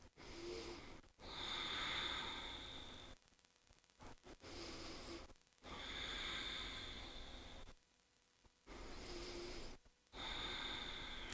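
Slow, deep breathing during a yoga stretch, long airy inhales and exhales close to the microphone, alternating with brief quiet pauses.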